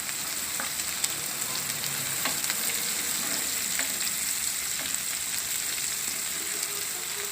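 Green chili and onion fry in oil in a pan for a pea and chora curry, a steady, close sizzle with scattered faint crackles running throughout, no talk.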